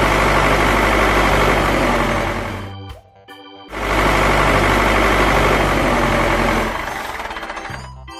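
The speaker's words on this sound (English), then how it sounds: "Tractor." A tractor engine runs loud and steady close by, with a brief drop in level partway through before it resumes running strongly.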